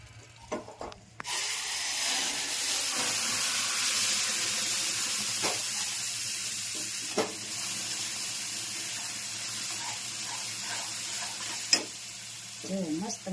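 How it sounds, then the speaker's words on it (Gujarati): Jaggery water poured onto roasted sheera sets off a loud, steady sizzle and bubbling hiss after a short stirring start, with occasional scrapes and clicks of a spoon in the pan. "પછી આ ગોળવાળું પાણી ઉમેરવાનું"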